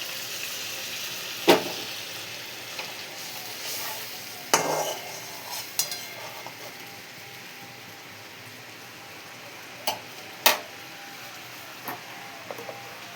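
Poppy seed rinse water poured into a pan of mushrooms, a soft wet sizzle and stir with occasional sharp clinks of utensil on pan, fairly quiet, no voices.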